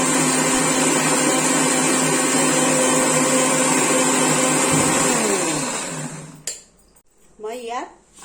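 A kitchen mixer grinder whirs loudly while blending peanut chutney into a paste, a steady motor drone that winds down and stops near the end, followed by a few faint clinks and a brief voice.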